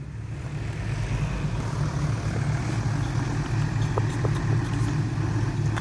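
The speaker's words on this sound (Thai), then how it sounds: "ลงแล้วจ้ารถไถไม่พังหรอก" A tractor engine runs steadily, a low, even rumbling drone with a slight idle-like throb that holds near and constant throughout, with faint clicks on top and no one speaking.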